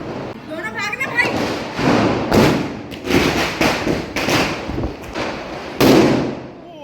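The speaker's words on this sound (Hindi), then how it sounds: "तो शुरुआत पटाखे फोड़ने की मैं कर चुका हूँ" Several loud Diwali firecracker bangs burst one after another, sharp and close, with voices talking and shouting in between.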